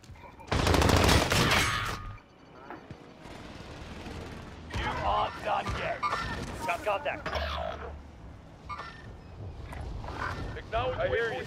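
Bursts of rapid automatic gunfire crackle through a video game match, with a loud volley at the start and further sporadic shots and clatter mixed under players talking.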